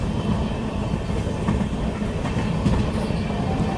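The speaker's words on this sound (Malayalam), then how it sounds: "ട്രെയിൻ ഇപ്പോൾ കാസർഗോഡ് റെയിൽവേ സ്റ്റേഷനിലേക്ക് എത്തുകയാണ്." A Kasaragod–Bengaluru express train rolls into Kasaragod railway station, a loud, steady rumble of wheels and carriages with rhythmic clatter throughout.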